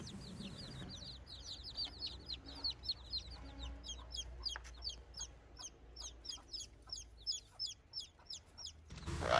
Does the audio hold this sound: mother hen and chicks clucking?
yes